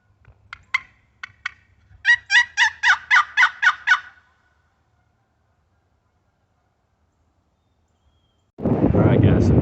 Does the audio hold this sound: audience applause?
no